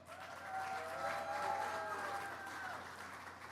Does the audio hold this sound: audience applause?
yes